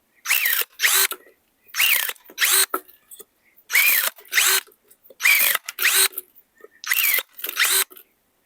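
A ProCraft ES 32 Li battery-powered cordless pruner cuts through pine, giving about a dozen short motorized whirring bursts with rising and falling whine, each separated by brief silence, close up.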